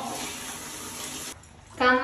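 Water runs steadily from a tap while a dog is being bathed, a continuous hiss that drops away briefly and then gushes again louder, with no voices over it.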